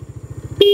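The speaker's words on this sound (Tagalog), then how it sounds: "Lakas ng busina." A Rusi Adventure X 150i motorcycle idles with a rapid putt-putt rhythm, then a short, loud horn blast sounds up close.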